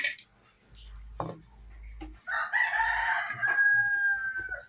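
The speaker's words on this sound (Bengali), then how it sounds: "ওই যে বাহিরে আমার মুরগি শব্দ করতেছে" Chickens outside at dusk cluck and one rooster crows in a drawn-out call, moderately near, with some indoor kitchen clatter around it.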